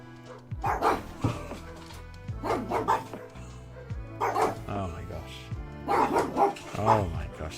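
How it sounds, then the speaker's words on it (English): Dog barking outside, repeated yips and barks coming through continuously alongside close talking and background game music. "there is a dog barking outside"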